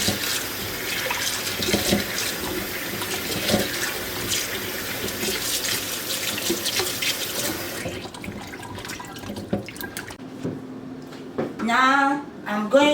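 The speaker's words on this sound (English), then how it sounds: "I'm going to wash my pumpkin." Tap water runs steadily over a pumpkin being washed in a sink, a dense close splashing that fills the first half. It then drops to quieter handling sounds and a few brief bursts of water.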